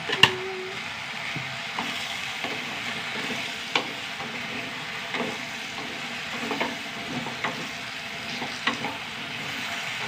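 Onions sautéing in a pan with turmeric powder added, a steady soft sizzle and hiss running throughout with occasional stirring scrapes and light knocks of a spoon against the pan.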